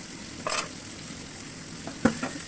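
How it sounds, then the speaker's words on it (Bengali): Rita fish frying in hot oil give a constant bright sizzle with a few sharp pops and splatters, close and alone. "এখন দেখতেছি রিঠা মাছও ছিটতেছে"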